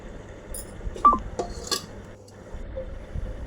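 Chopped onion and tomato pieces go into a pot of cooked chana dal, with sharp metallic clinks of a utensil against the pot and a short scrape, all fairly close with no talking.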